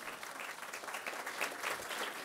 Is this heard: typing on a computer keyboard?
no